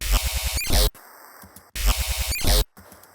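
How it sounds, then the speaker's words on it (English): Choppy, stuttering glitchy synth noises from a buffer override effect repeat in rapid bursts, cutting off abruptly into near silence before the pattern starts again. "I was just tweaking the buffer override to get all these weird glitchy noises."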